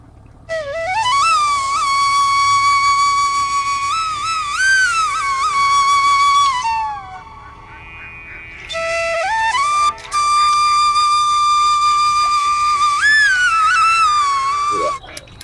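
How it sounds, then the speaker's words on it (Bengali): A duck farmer on open water plays a loud, clear whistle tune of sliding, warbling notes in two long phrases separated by a short pause, with no talk over it. "সেই বাঁশির সুর আমরা একটু শুনতে চাই।"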